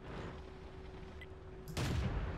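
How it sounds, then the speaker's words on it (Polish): Tank cannon fire in the World of Tanks video game: a steady low battle rumble, then a sudden loud blast near the end that stays heavy and booming. "Bishop do mnie strzela z przodu"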